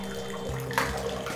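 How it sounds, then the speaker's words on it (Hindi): Water running through a portable instant water heater as the flow is turned up to a higher speed, a steady close rushing stream with a brief louder gush partway through. "अब मैं पानी को थोड़ा सा नीचे से ज़्यादा स्पीड से बढ़ाता हूँ"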